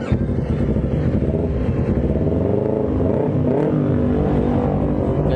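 A Yamaha R25 motorcycle fitted with a smart key alarm is cranked by its starter and settles into a close, rumbling idle.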